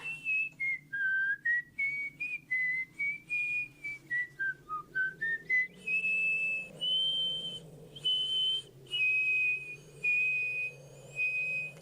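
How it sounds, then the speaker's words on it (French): A long whistled tune, close and clear, first in short rising and falling notes, then in longer sustained held tones. "Il est long le sifflement là"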